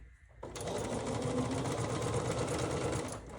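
A sewing machine stitches two quilt block pieces together in one steady, continuous run of rapid needle chatter that starts abruptly after a brief quiet moment, close and fairly soft, with no talking.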